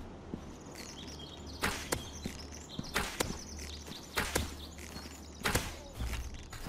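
Bow arrows are loosed one after another in the video game Dinosaur Forest, each shot a sharp whooshing snap, about seven of them at irregular intervals over quiet background game ambience, with no talk.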